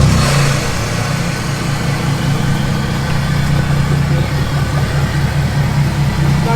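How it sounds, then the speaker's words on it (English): A Ford F450 truck engine fires up by remote start and settles into a steady, loud idle close by, a low rumbling hum running unbroken throughout. "how about you start it up? It's your truck now. The remote start."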